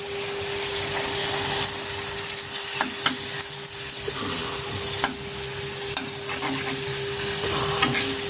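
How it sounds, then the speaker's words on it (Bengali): Pakon pitha deep-frying in hot oil gives a dense, constant bubbling sizzle with occasional sharper crackles, close up and steady for several seconds with a faint tonal hum underneath and no speech. "দেখতে পাচ্ছেন ভাজা অবস্থা। তেলে ডুবিয়ে ভাজতে হয়।"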